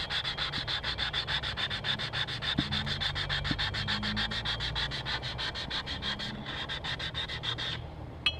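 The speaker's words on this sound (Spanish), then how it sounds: "Es la forma de lijarlo. Observa." Brake pads are sanded by hand at a mechanics school, producing rapid, rhythmic back-and-forth rasping strokes, steady and close, ending with a brief pause.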